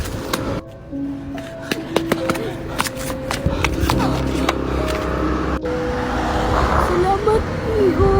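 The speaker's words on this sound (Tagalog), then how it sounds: "May paparating na sasakyan!" A car approaches along a road, its engine and tyre rumble building steadily beneath loud voices talking over it.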